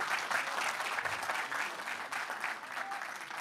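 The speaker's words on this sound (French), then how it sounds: "on peut les applaudir encore une fois." Steady applause from an audience at a hackathon awards ceremony, cheering the prize winners. The clapping is dense and sustained, holding an even level throughout with no voices standing out.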